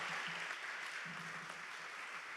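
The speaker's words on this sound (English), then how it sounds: "give a round of applause to these guys" Steady applause from an audience, a soft, even wash of clapping heard from some distance with a faint voice beneath it.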